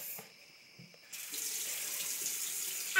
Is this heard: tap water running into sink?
yes